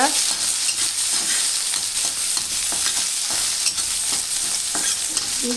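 Chopped green chillies and thinly sliced onions frying in a hot pan while being stirred, a continuous bright sizzle with repeated scraping strokes of the spoon, close and steady throughout, no speech.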